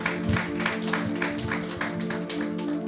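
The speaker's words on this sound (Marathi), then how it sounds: "जरा टाळ्या वाजवा, देवाला धन्यवाद द्या." A church congregation claps in a steady rhythmic beat, each clap evenly spaced over a sustained musical drone that fills the room.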